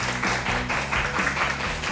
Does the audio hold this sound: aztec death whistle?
no